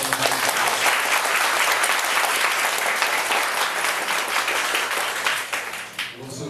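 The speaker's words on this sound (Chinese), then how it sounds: "那我们就热烈掌声。" An audience breaks into loud, continuous applause welcoming a guest speaker, full dense clapping that tapers off in the final second.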